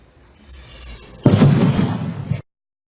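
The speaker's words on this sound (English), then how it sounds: "These are mysterious explosions in the middle of the night." A sudden loud boom bursts after a quiet, building rumble, sustaining a crackling roar for about a second before cutting off.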